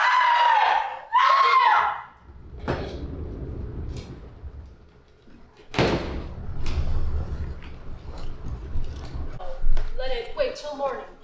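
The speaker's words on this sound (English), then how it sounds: "I'll scream." A woman's shrill, sustained screams in a live stage production of Dr. Jekyll and Mr. Hyde, two loud bursts followed by thuds, movement and agitated voices.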